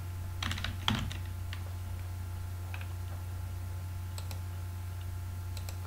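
Someone types a name on a computer keyboard in a quiet room, making a few soft, scattered key clicks over a low, constant hum.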